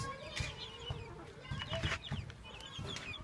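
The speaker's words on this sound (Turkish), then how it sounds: "Bu da Atax tavuklarımız." Several Atax chickens cluck and chatter close by, with overlapping calls and soft scratching sounds in a farmyard setting.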